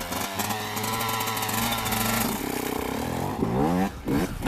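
A dirt bike engine, ridden tandem, revs in a continuous buzzing drone that climbs in pitch toward the end, loud and close, with no talk.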